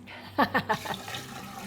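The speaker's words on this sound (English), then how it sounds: "now we're gonna pour this in" Homemade ginger switchel poured from one vessel into a container, giving a few quick splashy glugs up front that trail off into a soft, steady trickle, close and fairly quiet.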